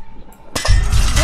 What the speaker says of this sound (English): Did you hear that smashing?